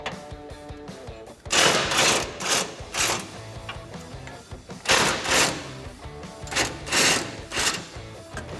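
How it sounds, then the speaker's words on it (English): Impact gun zipping out 15 mm bumper bolts on a RAM 1500, loud repeated bursts of rattling hammering with short pauses between, close up, no talking. "Next up, we're gonna remove 2 15 millimeter bolts holding on your bumper."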